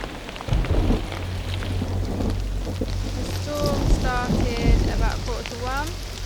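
Torrential rain from a thunderstorm pours down at night around an outdoor camp, a dense, steady roar with low rumbling underneath; brief whistling tonal calls rise above the downpour midway.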